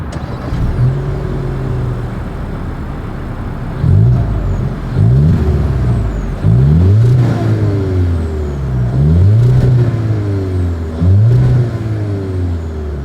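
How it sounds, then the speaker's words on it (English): A 2025 Volkswagen Jetta with a single exhaust, heard idling and then given several short revs that rise and fall in repeated bursts, fairly close and without any talk. "As always, here is that exhaust clip."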